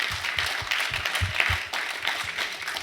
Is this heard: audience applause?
yes